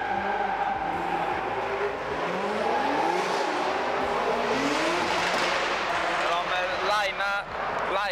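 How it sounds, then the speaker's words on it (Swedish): Japanese cars at the Reisbrennen car event drift through a long left bend in the distance, engines revving and droning with faint tire squeal, under loud crowd noise and nearby voices chatting. "sladdar de in eller driftar de en lång vänsterböj där borta"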